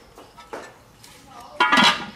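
A heavy, thick cast iron pot being set onto a kitchen stove, a few dull metallic clunks and scrapes with a final louder clank, while someone talks nearby.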